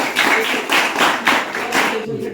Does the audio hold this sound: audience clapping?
yes